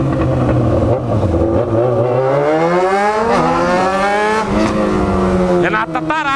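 A Chevrolet Corvette revs hard on the street, its engine pitch climbing and falling through loud rising sweeps close by, with people talking over the roar.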